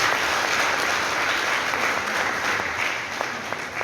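Audience applause at a book presentation and signing ceremony in a university faculty, dense sustained clapping from a seated crowd, steady and even throughout with no voices over it.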